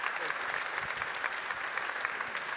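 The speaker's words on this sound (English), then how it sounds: "Will you give my brother Chuck here a round of applause?" A church congregation applauds for a man named Chuck at the close of a Sunday service, a steady wash of many hands clapping throughout, moderately distant.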